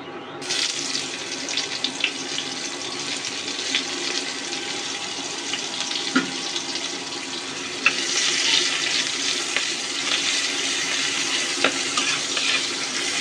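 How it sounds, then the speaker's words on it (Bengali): Two medium onions, chopped, sizzling in hot oil in a pan already holding fried cumin and dried chillies, a steady broadband hiss that swells louder partway through, with faint clinks and no talk. "এখন আমি দিয়ে দিব মাঝারি সাইজের 2টো পেঁয়াজ কুচি"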